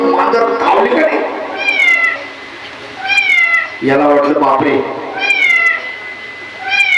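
A cat meows repeatedly in drawn-out, rising calls spaced a second or two apart, clearly heard under and between a man's storytelling speech.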